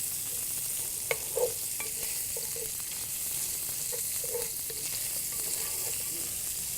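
Food fries in a pan, cooked longer until crisp, with a steady broadband sizzle running throughout and a few soft scraping stirs and light clinks from a utensil scattered across it; no talking.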